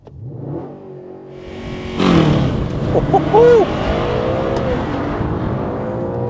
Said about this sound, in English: Now to launch this car, car's to be in dynamic, traction control half off and gearbox in S, and we're good to go.